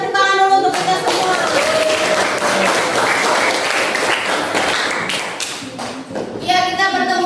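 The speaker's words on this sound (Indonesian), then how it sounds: "pembelajaran hari ini kita beri tepuk tangan dulu untuk kita semua" A classroom of students claps together in a lesson on national unity in Indonesia, with sustained, dense hand clapping for several seconds. Voices are heard briefly at the start and end.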